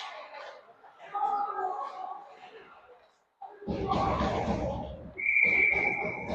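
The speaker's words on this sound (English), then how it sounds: "Goalie covers, and we'll get a whistle." A referee's whistle gives a sharp, sustained blast at an ice hockey game after the goalie covers the puck. It rises over arena chatter and crowd noise that start in suddenly after a brief quiet.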